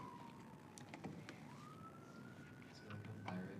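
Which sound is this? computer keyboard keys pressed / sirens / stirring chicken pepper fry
sirens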